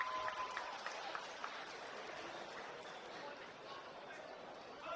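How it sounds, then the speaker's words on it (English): A home crowd at a basketball arena in Causeway Bay gives soft, continuous applause, heard faintly and distantly with a light murmur underneath and no clear talk on top. "the home crowd just greeting and welcoming Lee Kai-yen here to Causeway Bay"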